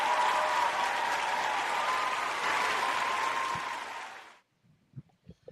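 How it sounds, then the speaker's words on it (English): Loud audience applause at a stage event as a guest is welcomed up holds steady, then fades and stops near the end, leaving a few faint knocks. "Give him a great big hand. Great big hand."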